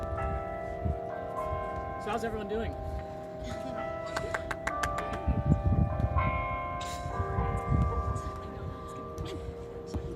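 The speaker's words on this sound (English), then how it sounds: "Sorry, I can't hear him over the bell." A church bell rings outside during a student panel discussion on diversity in higher education, its repeated tolls and long ringing overtones sounding through the room beneath people talking.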